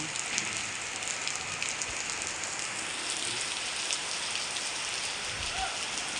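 Heavy rain with wind pours down steadily in Vijayawada, a dense continuous hiss of drops with a faint voice now and then in the background.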